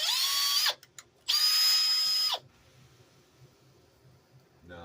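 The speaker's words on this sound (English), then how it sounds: "It's always a good idea to pre-drill." A power drill pre-drilling a screw hole whines at high speed in two bursts, stopping briefly in between, then falls silent leaving faint background noise.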